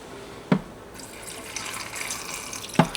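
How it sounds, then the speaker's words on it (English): Ice cold water poured into a food mixture in a kitchen, a soft trickling and splashing stream under two brief clinks of a spoon or container, fairly quiet and close. "I'm gonna need 2 to 4 tablespoons of ice cold water to make it extra creamy"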